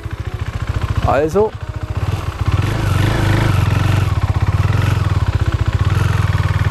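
A KTM Duke 390 single-cylinder motorcycle idles and putters close by while turning at low speed, its steady thumping pulse running throughout, with someone speaking briefly over it.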